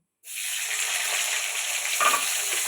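Tomato dropping into a pan of frying cauliflower, a sudden onset of loud, steady sizzling and bubbling that continues throughout, with a brief stir or clink of a utensil partway through.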